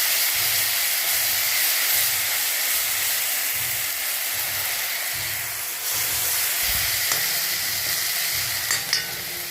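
Garlic paste sizzles loudly in a pan for a beetroot stir-fry, a continuous close hiss with a regular pulsing stir or scrape underneath.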